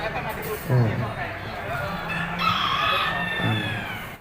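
Chickens crow and cluck at an agricultural fair at Khon Kaen University, with several birds calling close by in overlapping bursts while people talk underneath.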